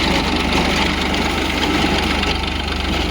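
A farm tractor's engine idles close by, a loud, steady low rumble with a rapid, even knocking pulse that continues unbroken throughout.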